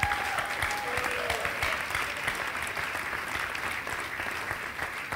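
A church congregation applauds during a sermon, dense sustained clapping from many hands filling the room at a steady, lively level for the whole stretch, with no one speaking over it.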